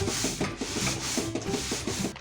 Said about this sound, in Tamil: ஒரு ஃப்ளாட் சர்ஃபேஸில் வச்சு இந்த மாதிரி நல்லா அழுத்தி பிசைஞ்சிக்கோங்க